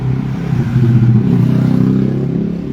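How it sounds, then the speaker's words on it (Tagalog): A motorcycle engine labouring up a steep hill, a steady low droning rumble with slight rises in pitch, loud and close, with no talk. "Diyan ang mahihirapan yung motor."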